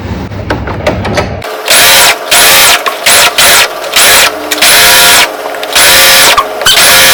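A sewing machine stitches lehenga fabric in repeated loud bursts, starting and stopping several times as each seam is run, close up with no talking.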